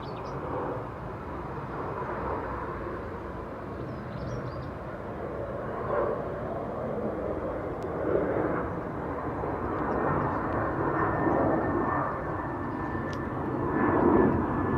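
An Iberia airliner flies at Dublin Airport with a faint, distant, steady jet rumble that swells slightly toward the end. Ryanair jets are nearby.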